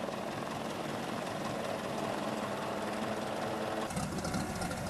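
A seaplane engine drones steadily and evenly at a distance as the plane taxis on the water toward a dock. The tone shifts a little near the end. No voices are heard.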